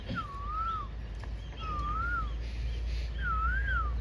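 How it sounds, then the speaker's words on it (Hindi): A male Asian koel sings three clear, rising-and-falling whistled phrases, evenly spaced and fairly close, over a steady low background hum with no talking. "कोयल गाता है। जो गाता है ना"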